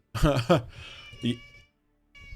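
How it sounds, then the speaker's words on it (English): A cat meows loudly and insistently at close range in a few strained, screaming bursts, with a person talking over part of it. "my cat's screaming at me"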